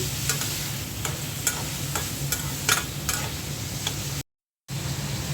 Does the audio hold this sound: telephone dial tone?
no